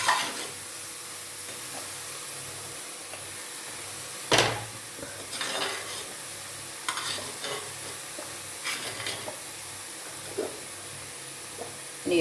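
Beans stir-fried with leaves in oiled pan for a Kerala thoran, a soft constant sizzle punctuated by a loud scrape and a series of lighter stirring scrapes and taps, close up with no speech.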